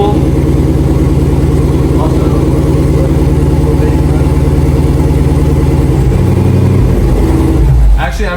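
A Dodge Demon 170 engine running loud inside a garage with no fuel in it, a steady deep mechanical roar throughout, with a brief burst near the end.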